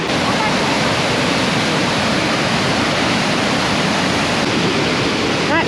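Water released from the Hume Dam on the Murray River rushes in a loud, constant roar with no breaks.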